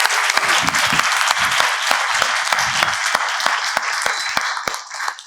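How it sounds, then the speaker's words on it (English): An audience at a business masterclass claps in a loud round of applause, individual sharp claps standing out before it thins toward the end. "I think it deserves one more round of applause from all of us."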